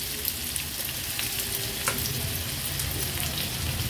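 Finely chopped onion fries in plenty of hot oil in a pan, a steady, close crackling sizzle with small pops scattered through it and no voices.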